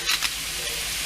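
Tomatoes hit a pan of cooked-down onions, taco filling for cilantro lime pork: a close, loud, steady sizzle with a couple of quick stirring scrapes at the start, no talking.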